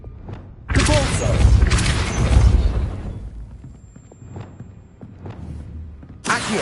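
Depulso spell effect in Hogwarts Legacy, a loud booming magical blast that bursts in abruptly, roars for a couple of seconds, then fades into quieter thuds before another burst near the end.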